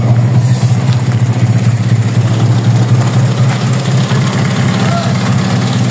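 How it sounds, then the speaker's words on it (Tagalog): A 1994 Nissan Sentra's engine idles steadily while warming up, a loud, close, even low rumble with a fast regular pulse running unbroken throughout. "Painitin muna natin saglit."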